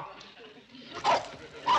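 A dog barks in a TV comedy scene, giving a couple of short, sharp barks that come on loud near the end, with faint voices and whimpering sounds between them.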